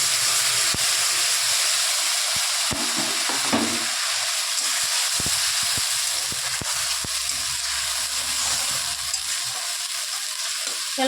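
Fish and potatoes frying in a pan give a continuous loud sizzle and hiss that runs the whole time, with occasional scraping and stirring clicks and no talking.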